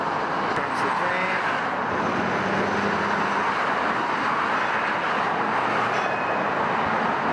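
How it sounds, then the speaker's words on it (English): An O-Train arrives at Confederation station as a loud, continuous rumble of wheels and motors close by, with voices faintly mixed in. "Comes the train."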